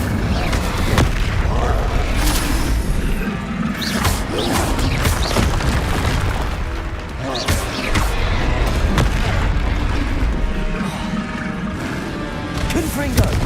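Confringo blasts from the video game Hogwarts Legacy boom repeatedly amid dense in-game combat noise, a loud, continuous barrage of thumps and crackles with voices mixed in.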